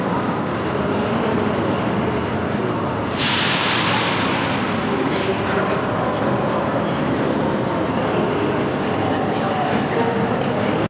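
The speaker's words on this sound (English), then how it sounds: "This is train station in Porto." A train at Porto railway station rumbles steadily, with a sharp, bright burst of hissing noise a few seconds in that then fades back into the continuous roar.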